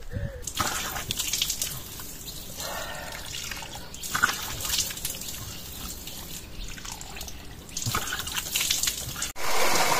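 Water runs and splashes steadily from an outdoor fountain tap at a mountain campsite, a continuous close gush with drips and occasional louder spatters.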